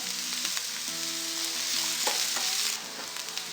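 Finely chopped onion and green chillies fry in hot oil, a close, steady crackling sizzle with repeated spoon scrapes and stirs across the pan, no voices present.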